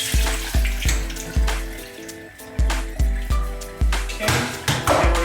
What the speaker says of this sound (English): I'm just gonna go ahead and pour this water out.